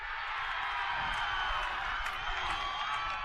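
A large football crowd at an Old Eltham versus Epping elimination final roars in sustained cheering after a goal, a steady distant wall of voices with scattered whoops.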